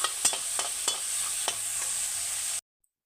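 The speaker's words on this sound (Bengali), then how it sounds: "মটরটাকে নুন হলুদ দিয়ে একটু ভেজে নিচ্ছি" Peas frying in a pan with salt and turmeric give a steady bright sizzle, broken by a few soft stirring scrapes, close and fairly loud, before cutting off abruptly near the end.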